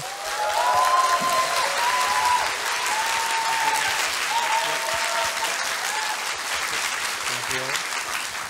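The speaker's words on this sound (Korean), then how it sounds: "박수로 맞아주세요" Sustained audience applause welcomes a curator to the stage for a lecture at a televised economics concert event. The clapping is dense and steady for the whole stretch, with a faint voice under it.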